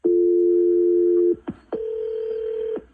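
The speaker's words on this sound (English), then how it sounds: "We're going to give Grace a call, Ian, and see if that's it or if she'll tell us why she actually ghosted you" Phone line audio for a radio station call-in show: a steady dial tone, then clicks and a long sustained ringback tone, loud and close, with no talking.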